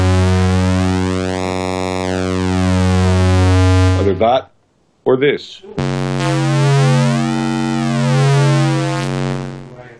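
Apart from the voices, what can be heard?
DeepMind 12 synthesizer oscillator with pulse width modulation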